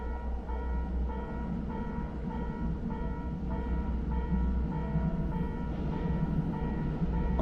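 Rumbling train running steadily in a Backrooms-style horror video game, with a low continuous drone and rhythmic tonal clacking, sustained throughout with no speech.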